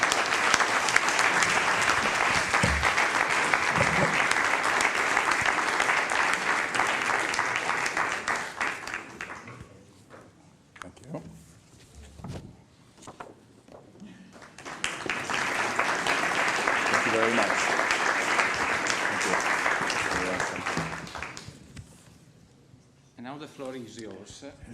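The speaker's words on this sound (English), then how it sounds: "Please give him a round of applause." A conference audience gives a round of applause for an award recipient, two sustained bursts of dense clapping separated by a quieter stretch with talk, the second burst fading into speech at the end.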